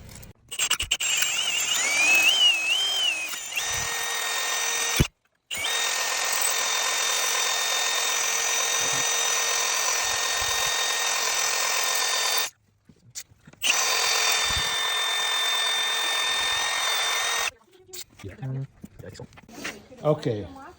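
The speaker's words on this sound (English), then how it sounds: "how he drills them out" A power drill bores out stuck bolts on an Allis Chalmers Model G tractor, a loud steady high-pitched whine running in long bursts with brief stops between them, close up.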